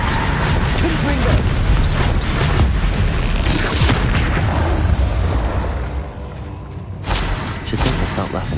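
A Confringo fire spell explodes in Hogwarts Legacy, a dense, roaring boom with a sustained rumbling wash that fades briefly before another surge of fiery noise.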